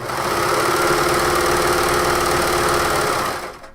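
A serger overlocks the bottom edge of a fabric top, running as one steady, loud, fast mechanical whir for about three seconds before stopping, with no talking.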